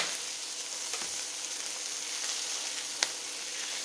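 Beef and bacon patties sizzle steadily in a frying pan, a continuous close crackling hiss with one sharp pop near the end.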